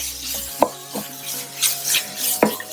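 Raw mango pieces stirred in hot oil in a pan, with soft sizzling under a few scraping strokes and light knocks of the spoon against the pan.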